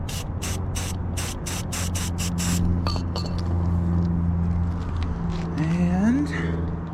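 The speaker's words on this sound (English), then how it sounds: "Just gonna do a little spray." Several short bursts of aerosol spray paint hiss in quick succession while touching up motorcycle damage, then stop, leaving a low hum and faint clinks.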